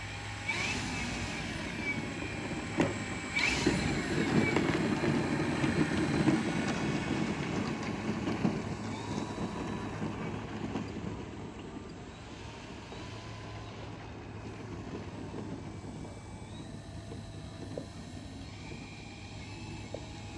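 A small aircraft with its engine cowl refitted after repairs taxis with a steady low engine drone, louder for the first several seconds and then settling into a quieter, even rumble.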